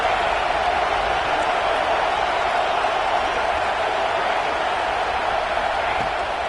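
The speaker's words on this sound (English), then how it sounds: "This crowd bringing the energy and noise early." Steady, dense roar of a college football stadium crowd, a continuous wash of noise holding level throughout with no distinct voices standing out.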